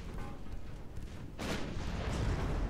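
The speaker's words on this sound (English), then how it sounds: "Main gun fires." A warship's main gun fires in the naval battle game Ultimate Admiral Dreadnoughts, giving one sudden, heavy boom that rolls into a low rumble over steady background battle noise.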